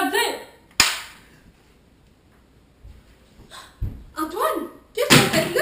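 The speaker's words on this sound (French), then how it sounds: "Tire-le, Antoine, tire" A single loud, sharp gunshot cracks out in a French-language film scene, standing alone against quiet background, followed later by agitated voices and other bangs.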